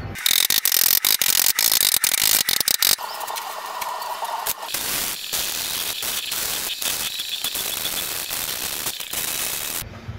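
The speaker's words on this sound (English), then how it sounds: "I'm gonna weld up that bar now." Welding a bar onto the front bumper of a 2006-2010 Jeep Grand Cherokee, with a few seconds of sharp rapid clicking followed by a loud, steady crackling hiss that runs nearly to the end.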